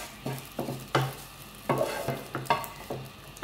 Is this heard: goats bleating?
no